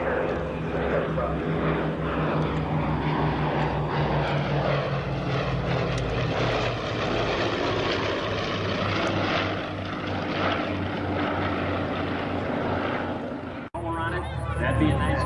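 A rare On Mark B-26K Counter Invader, a twin radial-engine propeller aircraft, roars past in an airshow flyby, its loud sustained drone over faint crowd murmur before cutting off abruptly near the end.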